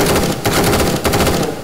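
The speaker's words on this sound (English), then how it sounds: "just keep firing" Continuous gunfire from a rifle in the H3VR virtual reality shooter, a dense rapid stream of close, loud shots with short bursts and brief gaps, no talking.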